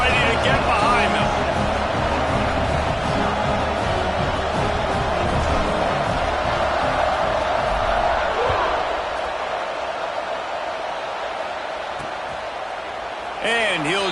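A college football stadium crowd roars before kickoff, a broad sustained wash of cheering under a commentator's voice, fading somewhat toward the end.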